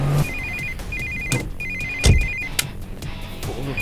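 A phone ringtone repeats in three short electronic bursts, loud and close, with some thumps and background noise from a tense police drama scene between the rings.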